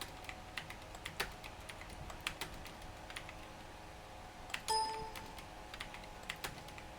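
Keyboard shortcuts tapped on a computer keyboard while working in Photoshop: scattered, fairly quiet key clicks at an uneven pace over low room hiss, with one brief tonal beep partway through and no talking.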